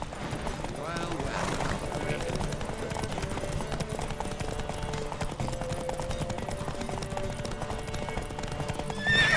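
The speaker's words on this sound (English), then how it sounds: "Don't spare the horse!" A horse gallops with rapid, steady clip-clop hoofbeats in The Witcher 3 video game, with a loud whinny near the end, heard over game music and voices.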